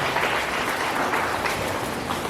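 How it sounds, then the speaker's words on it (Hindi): Brief burst of dense audience clapping in a welcome at a religious ceremony, full and steady from start to finish. "तालियां बजाकर हम इस स्वागत को ज्ञापन करें।"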